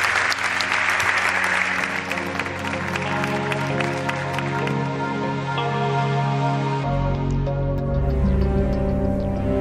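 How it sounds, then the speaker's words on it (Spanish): A theatre audience at the Teatro Ramos Carrión in Zamora applauds loudly during a televised variety special. The clapping is thick at first and eases off partway through while sustained musical tones carry on underneath. "Os pido un aplauso para él"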